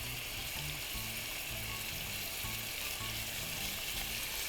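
Chicken pieces for chakhokhbili fry in a pan with a loud, steady sizzle filling the whole clip, broken by faint scraping and clinks as the pieces are turned over.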